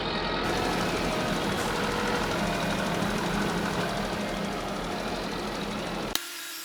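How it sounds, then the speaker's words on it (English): A Farming Simulator 22 tractor pulling a fertiliser spreader across a field runs with a constant loud, knocking diesel drone, unbroken until it cuts off abruptly near the end. "This tractor actually handled the spreader pretty well"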